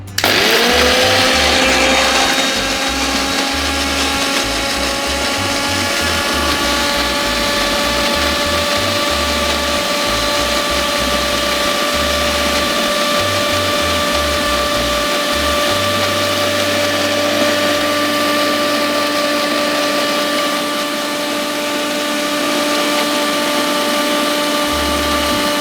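A kitchen blender grinds beetroot, poha and half a cup of milk, spinning up at once into a loud steady whir with a bright motor tone that holds for the whole time, heard alone.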